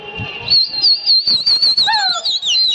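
A shrill human whistle to call pigeons rises and falls in repeated warbling phrases, loud and close, with brief lower sliding notes near the end.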